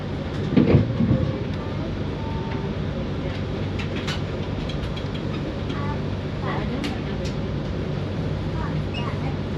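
The Argo Merbabu passenger train pulls out of Cirebon station, a steady rumbling roll of wheels and carriage noise heard from on board, with a few faint clicks and squeaks and a brief louder knock near the start.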